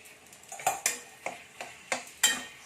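Minced pork being stirred into browned onion paste in a pan, with a spoon scraping and knocking against the pan in six or seven irregular, close strokes over a quiet sizzle.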